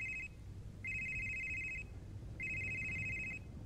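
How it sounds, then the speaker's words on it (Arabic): A telephone rings inside the psychological horror game Someday You'll Return, three electronic bursts of about a second each separated by pauses, fairly quiet over a low background hum. "رد على التليفون."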